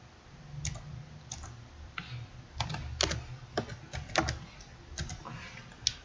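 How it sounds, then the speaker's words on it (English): Typing on a computer keyboard, close and quiet, with irregular bursts of key clicks and short pauses between them. "I'll type it in."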